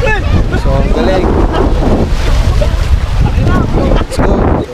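Water currents colliding and crashing where a river meets the sea, heard as loud, continuous churning roar with heavy wind buffeting the microphone and brief voices mixed in.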